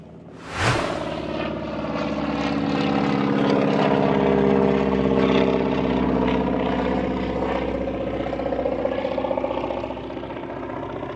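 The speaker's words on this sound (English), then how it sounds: "here comes another nutter on a plane. Flying about on the wings." A propeller plane carrying a wing walker at a show flies overhead, with a sharp onset, then a loud, droning engine with a steady harmonic buzz that lingers and slowly fades.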